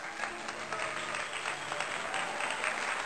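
Wedding guests applaud at a Kerala wedding ceremony, a steady, dense clapping from a crowd held at an even level throughout, with no break in the sound.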